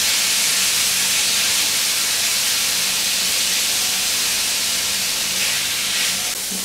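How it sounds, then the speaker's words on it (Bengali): Onion and chicken fry in a pan for a chicken doughnut recipe, making a loud, continuous sizzling hiss close to the microphone with no talk. "যখন মোটামুটি পেঁয়াজ আর মুরগিটা একটু ভাজা ভাজা হয়ে যাবে"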